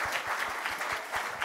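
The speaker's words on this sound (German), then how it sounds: "Damit ein Applaus an Martin von Marschall" Studio audience at a German election candidate roast show gives a short, moderately quiet round of clapping for a candidate, with distinct individual claps audible.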